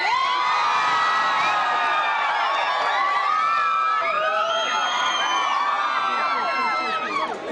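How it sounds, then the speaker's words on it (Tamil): A large crowd of fans in Singapore cheers and screams at the sight of actor Surya, a dense sustained roar of high excited shouts and whoops, loud and unbroken for several seconds. "சுமார் 1 மணி நேரத்துக்கு காத்திருந்த மக்கள் நடிகர் சூர்யாவை கண்டதும் ஆரவாரம்"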